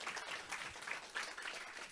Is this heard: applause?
yes